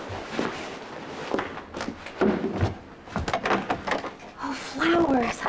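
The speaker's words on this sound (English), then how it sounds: "Mommy's gonna get the door." Indoor footsteps, then a house door being handled and swung open with knocks and clunks, close by and fairly loud, while people talk over the movement.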